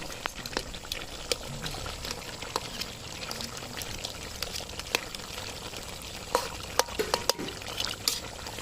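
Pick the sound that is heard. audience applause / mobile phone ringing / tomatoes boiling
tomatoes boiling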